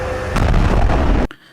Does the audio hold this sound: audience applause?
no